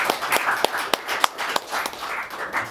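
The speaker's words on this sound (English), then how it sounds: "All that wild applause." An audience at a Gaelic League poetry night applauds after a poem reading, a brisk patter of clapping with several sharp, louder claps standing out near the front, short and without talk.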